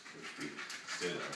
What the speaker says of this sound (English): The dog's trying to get it.